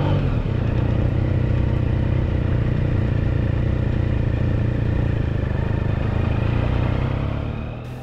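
A motorcycle cruises steadily along Highway 87 in Arizona, its engine droning loud and constant under heavy wind rush, fading slightly near the end, with no talk.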